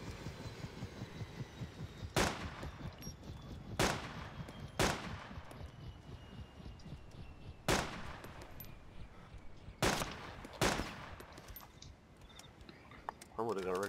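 Gunfire in a zombie survival game, six sharp loud shots spaced a second or two apart over a low background rumble and murmur.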